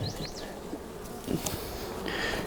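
Honeybees buzzing around an open double brood chamber hive during a split, a continuous close droning hum with a few louder passes near the microphone and no talk.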